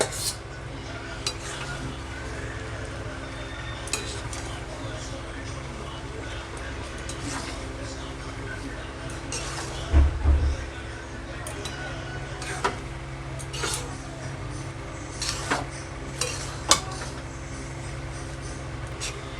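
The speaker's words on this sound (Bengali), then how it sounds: "আমি যে আলুটা ভেজে রেখেছিলাম আর মাছের মাথাটা দিয়ে আরও ছিন আঁচে আরও 5-7 মিনিট নেড়ে নেব" Fried potatoes and a fish head are turned over in a pot on low heat, with a soft ongoing sizzle, scattered scraping and clinking of a utensil on metal, and a brief louder knock midway.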